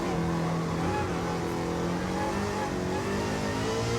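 Roadster Shop Road Rage Camaro running flat out on a race track, its engine holding a loud, sustained high-revving drone close by with no break across the stretch.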